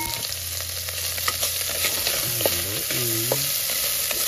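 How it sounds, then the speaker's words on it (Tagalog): Flaked fish tipped into a hot pan and frying with a steady close sizzle while a utensil stirs and scrapes; a few metallic knocks and clatters of the spoon against the pan, no talking. "Lagay natin yung isda na hinimay natin."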